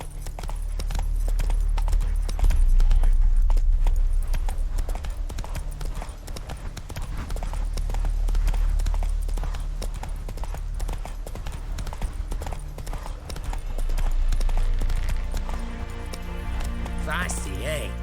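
Roach the horse trotting in The Witcher 3, with a steady, close clip-clop of hooves over a deep rumbling music score, joined by speech.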